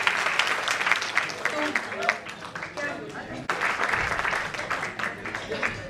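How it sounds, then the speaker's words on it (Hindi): Enthusiastic applause from a crowd, dense clapping that swells and dips throughout, with a brief lull near the middle. "एक बार इन बच्चों के लिए तालियाँ"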